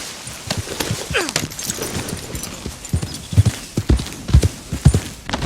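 Brisk hoof clip-clops from a Brindle Thoroughbred horse in a video game, in an irregular galloping rhythm, close and fairly loud, with a brief whinny early on and some rustling.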